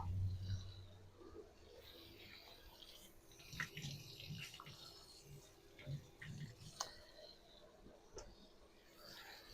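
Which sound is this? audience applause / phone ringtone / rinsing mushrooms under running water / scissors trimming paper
rinsing mushrooms under running water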